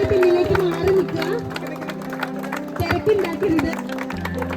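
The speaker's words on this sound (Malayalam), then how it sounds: "നല്ലൊരു കൈയടി." Crowd applause at a river swimming club's river-crossing event in Aluva, mixed with loud chatter and a voice over a speaker, clapping rising and falling in waves.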